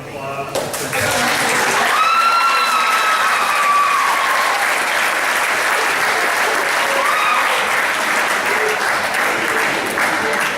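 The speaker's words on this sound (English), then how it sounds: "Can we get one more round of applause for Catherine?" Sustained, dense applause from an audience at an 8th grade graduation ceremony, loud and steady throughout with a few cheers rising above the clapping.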